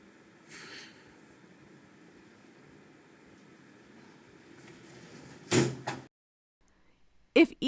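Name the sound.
hands slammed down on the back of a stool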